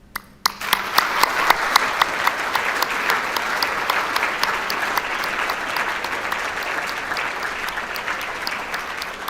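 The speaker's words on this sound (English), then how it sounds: "please join me in one final round of applause for all our brilliant winners and finalists" Sustained audience applause at an engineering skills awards ceremony, loud and steady from start to finish with no talk over it.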